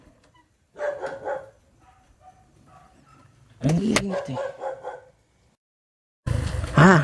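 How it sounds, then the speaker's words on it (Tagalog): Dogs bark at night during a motorbike ride, two short bursts of barking and yapping mixed with wind and engine noise, with people talking over them. "sabi ko sa'yo may aso"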